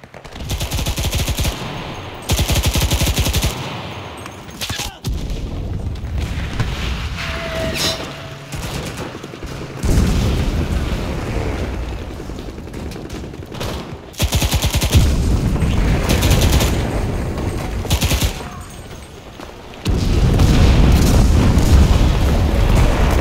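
Artillery strike in the shooter Enlisted, with heavy booming blasts and rattling gunfire arriving in loud bursts, separated by short lulls of rumbling battlefield noise.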